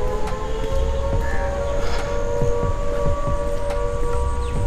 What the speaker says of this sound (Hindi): इधर बहुत सारा इंडस्ट्रियल एरिया है, पावर प्लांट है, इसलिए सायरन बजता रहता है।